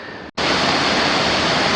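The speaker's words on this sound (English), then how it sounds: "there's the waterfalls and the Rainbow Falls coming down here" Rainbow Falls pours down in a steady, loud hiss of rushing water that starts abruptly after a brief cut and holds constant.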